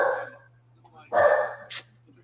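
A dog barking in a few sharp, separate bursts close by, with short gaps between and a brief high yip at the end.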